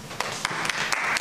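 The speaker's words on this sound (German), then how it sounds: "mit einem großen Applaus." An event audience applauds as partners are called onto a stage, a thick wash of clapping with a few sharper individual claps standing out near the front.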